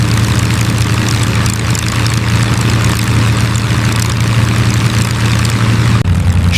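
A P-51 Mustang's piston engine roars at full climb power, a loud, steady low drone with a strong propeller hum that holds constant throughout, close and unbroken, with a brief dip near the end.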